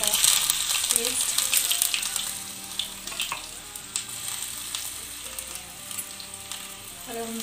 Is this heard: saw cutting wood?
no